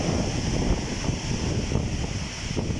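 Strong, steady wind from Storm Darragh in Wales roars and buffets the microphone without a break, a dense rushing noise with no voices.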